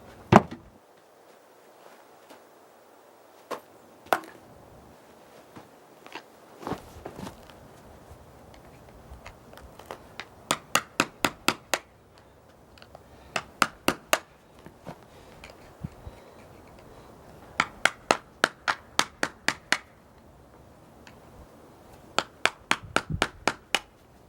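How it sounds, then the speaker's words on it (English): A regular hammer strikes a dull old chisel to unclinch old horseshoe nails on a hoof, sharp metallic taps coming in irregular bursts and quick rhythmic runs, close and alone. "To do this, we just use a regular hammer and an old chisel."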